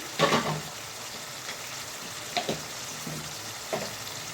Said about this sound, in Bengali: বেশ কিছুক্ষণ মশলাটাকে কষিয়ে নেবো